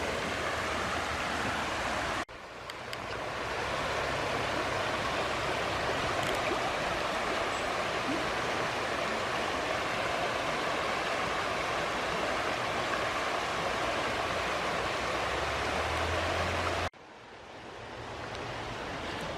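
Creek water rushing through a wooded park at St. Joseph, Tennessee, a steady broadband wash with a faint breezy edge that holds unbroken for the whole stretch, with no voices.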